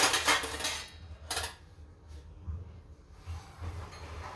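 Dishes being washed and put away: two quick bursts of clattering pots and utensils near the start, then quieter faint clinks and running-water hiss under a low background hum.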